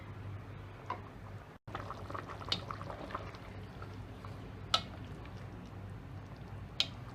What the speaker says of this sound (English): I'm going to cook this again till the gravy turns little thick